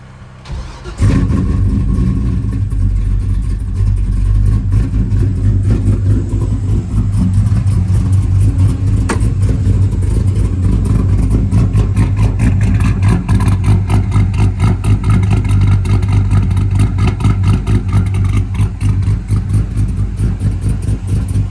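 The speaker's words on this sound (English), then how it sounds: "This will be the first startup in a while." A 6.0 V8 swapped into an S10 truck cranks and fires up, then settles into a loud, steady, rumbling idle with a choppy, pulsing exhaust note, with some exhaust leaks, that continues throughout.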